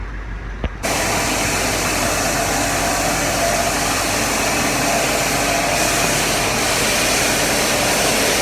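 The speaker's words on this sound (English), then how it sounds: "So this is how grain backing out the bin goes. It's essentially just a big vacuum at this point." A grain vac pulls grain out of a farm bin, starting abruptly and holding a loud, steady roaring hiss with grainy rushing texture throughout, no talk.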